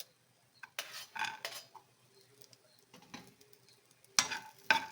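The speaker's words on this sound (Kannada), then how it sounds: "ದ್ರಾಕ್ಷಿ ಸ್ವಲ್ಪ ಫ್ರೈ ಆಗುತ್ತೆ" Raisins frying in a pan for mava gujiya sizzle softly while a spoon stirs and scrapes against the metal, with several louder clatters breaking through the quiet frying hiss.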